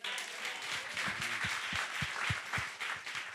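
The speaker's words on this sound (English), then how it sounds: "Now, clap for that." An audience claps softly, a faint, dense patter of many hands heard at a distance.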